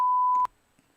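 A single loud, flat electronic censor beep sounds for about half a second over speech and cuts off sharply, followed by near silence.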